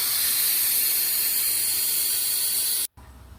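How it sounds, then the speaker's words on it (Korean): Residual LPG gas hissing steadily from a car's LPG tank valve as its fixing bolt is loosened, a loud, continuous broadband hiss that cuts off abruptly near the end, leaving a quieter low rumble. "인넥 밸브 고정 볼트를 조금씩 풀어봅니다. 잔류 가스 새는 소리가 한참 나요."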